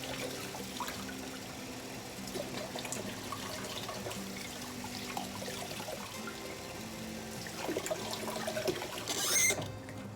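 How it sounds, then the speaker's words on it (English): A vinyl reborn doll kit part rubbed and rinsed under running tap water, a steady trickle and splash with soft squeaky rubbing, fairly quiet and close, with a brief louder splash near the end. "I rub the vinyl really well when I'm rinsing, just to make sure all the soap residue is off"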